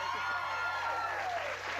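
Steady applause from an audience fills the clip, a continuous patter of clapping with crowd noise underneath.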